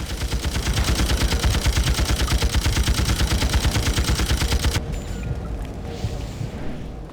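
Rapid bursts of gunfire and blasts from enemy grenades in the BloodRayne 2 video game, loud and continuous for several seconds before cutting off abruptly into a quieter, rumbling aftermath.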